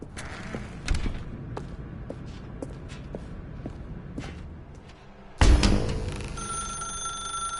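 A telephone rings repeatedly in The Stanley Parable video game, a series of sharp bell trills over soft footsteps, then a sudden loud thud and a brighter sustained electronic tone.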